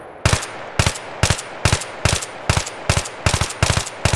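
AEK rifle in Battlefield 2042 firing in rapid, evenly spaced bursts of loud, close, cracking shots, about nine bursts in four seconds with brief gaps between them.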